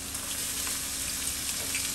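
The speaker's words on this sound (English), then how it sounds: "So now that my oil come up to a nice hot temperature, I'm going to add in my garlic and my ginger" Garlic and ginger sizzle steadily in hot oil for a raisin rice dish, a close, even crackle that holds without pause and with no voices over it.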